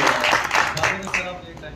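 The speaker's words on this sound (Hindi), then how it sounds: "एक बार जोरदार तालियां डायरेक्टर के लिए।" Theatre audience at a director's meet in Chandigarh clapping for the director, a brief burst of applause heard under a voice.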